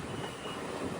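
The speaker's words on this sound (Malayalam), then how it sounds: "കെമ്പേഗൌഡ ഇന്റർനാഷണൽ എയർപോർട്ട് ഹാൾട്ട് സ്റ്റേഷനിലേക്ക് ഇതാ ട്രെയിൻ എത്തുകയാണ്" A train pulls into Kempegowda International Airport halt station near Bangalore, giving a steady broadband rumble of wheels and carriages that stays fairly quiet and continuous, with no talk.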